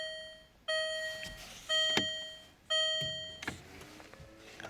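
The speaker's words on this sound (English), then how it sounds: "Stop that bleeping." A 2010 Land Rover Freelander 2 sounds its ignition warning, a clear electronic bleep repeated three times at a steady pace, each tone ringing out briefly, close and fairly quiet.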